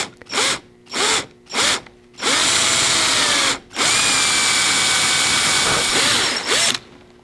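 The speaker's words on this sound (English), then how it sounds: "I'm just using a 3/8 inch drill, piece of tape 1/8 inch down from the cutting edge" A 3/8 inch drill boring a hole into a wooden display cabinet door, starting with three short whirring bursts, then two longer steady runs as the bit cuts, with the motor revving up and winding down in between.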